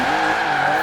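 Sustained tire skid from a 900hp Bentley Bentayga in Forza Horizon 3, the car sliding in second gear with a continuous loud scrubbing roar that runs steadily through the short moment.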